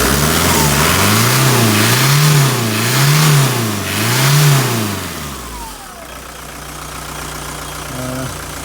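Rover Maestro diesel engine revving up and down in a steady rhythm of rising and falling swells after a lift pump change, with a suspected fuel starvation fault, then dropping back to a rough idle, loud and close.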